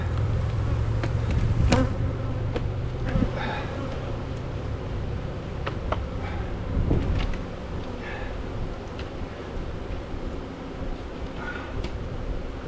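A honey bee swarm buzzes in a dense, continuous drone. The sound holds steady and loud throughout, with scattered small knocks and rustles.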